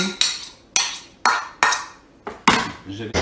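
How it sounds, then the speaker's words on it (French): A spoon clinks repeatedly against a bowl while mixing melted cheese with barbecue sauce, giving sharp, evenly spaced taps that each ring briefly, close and clear, about six strikes in three seconds. "Le fromage fondu dans un bol, je mets un petit peu de de sauce barbecue. Voilà, je mélange pour que c'est bien mélangé."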